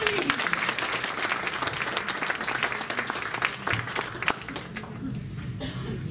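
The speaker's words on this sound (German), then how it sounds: "einen herzlichen Applaus für die Freiwilligen" Hearty applause from an audience at a hypnosis and NLP congress for volunteers, dense steady clapping that fades slightly toward the end, with a few murmurs mixed in.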